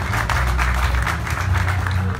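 Applause from a conference audience at a debate on the Rif popular movement, steady dense clapping throughout with a low hum underneath, fairly loud and close.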